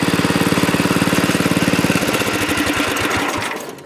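A tractor engine with a rattly clutch idles close and loud, its steady rapid chugging pulses continuing throughout, with a metallic rattle over the beat.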